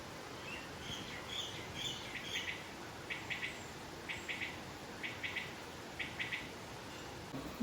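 Birds chirp and quail call in repeated short bursts over a steady hiss of flowing water outdoors in the hills, the calls faint and somewhat distant.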